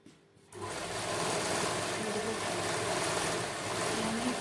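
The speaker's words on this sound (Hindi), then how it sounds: "यहाँ हम 2-3 बार सिलाई को ऊपर नीचे करेंगे" A sewing machine stitches a hip line on a kameez, starting after a brief quiet moment and then running as a loud, steady, close whir that barely changes.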